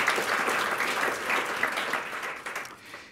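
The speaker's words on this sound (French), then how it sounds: "Applaudissons-la tout de même." Applause from an audience at a law faculty's opening ceremony, a steady wash of many hands clapping that holds for about three seconds and thins slightly toward the end.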